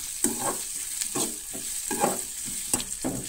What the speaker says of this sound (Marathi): सो कांदोय बीन न्हय बरो भाजून घेवंक जाय, म्हटल्यार करपोन घेवंक जायना.